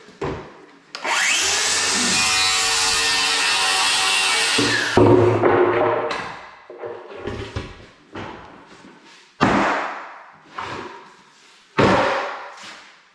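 A power saw cuts through wooden boards for pantry shelves, a loud continuous whine for several seconds, followed by the clatter and thumps of boards being moved and set down nearby.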